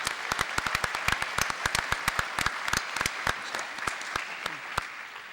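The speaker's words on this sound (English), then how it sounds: "So I just want to ask if everybody would give a round of applause for them and the rest of the staff." Applause from an audience at a public testimony session, many hands clapping in a dense, steady burst with sharp individual claps standing out, lasting several seconds without speech.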